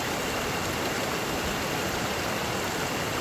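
A river in Costa Rica's jaguar country rushes steadily past, its broad, even roar of flowing water close and continuous with no voices over it.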